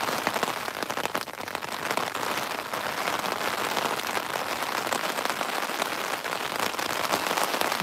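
Heavy rain pours steadily onto surfaces at a riverside fishing spot on the Norfolk Broads at Martham Staithe, a dense, loud, continuous patter with no talking.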